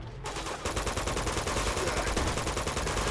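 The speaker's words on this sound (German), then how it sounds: "Ups, ich schieße mal wieder blind in der Gegend rum" Rapid, continuous gunfire from shooting blindly during a firefight in Uncharted 2, a dense, steady burst of automatic shots that runs almost the whole time with no voices over it.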